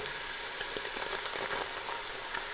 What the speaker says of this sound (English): So it's a quick fry, approximately 30 seconds or so.